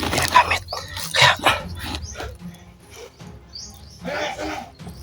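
Dogs bark in loud, ragged bursts near the start and again toward the end, mixed with high bird-like chirps over a busy, rumbling background.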